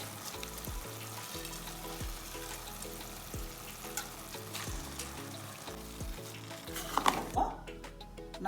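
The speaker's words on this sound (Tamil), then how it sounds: "இப்போ மஷ்ரூம் நல்லா வதங்கிருச்சு." Mushrooms and rice frying in a pan give off a steady, quiet sizzle, joined by soft repeated scraping and stirring, with a brief clatter toward the end.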